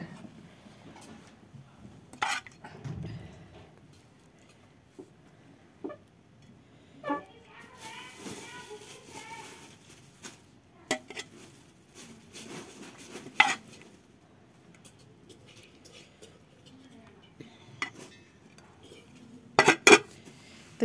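Cutlery clinks and scrapes on a plate during a meal of rice with curry, sparse separate taps and clatters in a quiet room, with soft movement between them.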